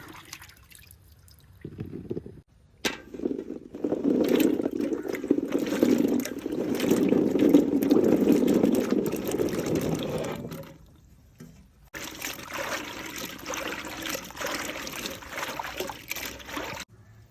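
Red chambakka fruit washed under running water in a home kitchen: a steady stream splashing and trickling over the fruit for several seconds, pausing briefly, then resuming with lighter dribbling, close and moderately loud.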